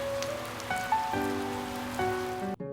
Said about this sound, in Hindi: बाहर जोरदार बारिश हो रही थी।